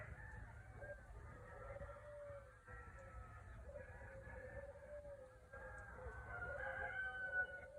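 Several roosters crow repeatedly on a ranch at early morning, long drawn-out calls overlapping at moderate distance over a steady low rumble of ambient farm noise, with other fowl faintly clucking.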